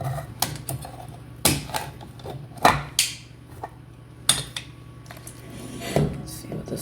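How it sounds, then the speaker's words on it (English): A spoon stirring two cans of Nestle Carnation evaporated milk into pumpkin pie filling in a bowl, with irregular clinks and knocks against the bowl amid soft scraping, close by. "And then we're going to Gradually stir that in."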